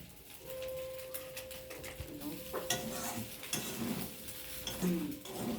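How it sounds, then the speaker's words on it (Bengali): A spoon scrapes and clinks against a pan while spices are stirred into pasta, producing intermittent soft scraping and knocking sounds that are faint and close by, with a brief steady tone and light background noise. "মশলাটা দেওয়া হয়ে গেছে, এই নাড়িয়ে নিলাম, নাড়িয়ে আর নাড়িয়ে"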